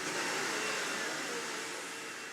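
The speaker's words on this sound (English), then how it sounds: "I never hoover in front of the babies because they're terrified of it" A household vacuum cleaner drones steadily and loudly at close range, a constant airy roar that eases off slightly near the end.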